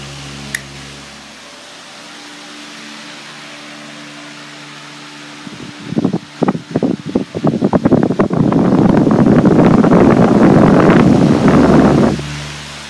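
HDX 20-inch high velocity fan switched up to high: a soft hum gives way to bursts of gusty rushing air that build into a loud, steady whoosh before dropping off at the end.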